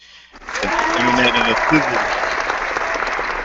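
Sustained applause from a crowd starts abruptly and keeps going, fairly loud and even, with some voices mixed into the clapping.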